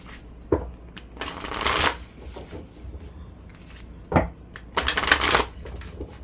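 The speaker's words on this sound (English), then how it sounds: "let me get a good shuffle" Tarot cards shuffled by hand in a few separate bursts of riffling and flicking, fairly close, alone with no talk, with quieter card handling between the bursts.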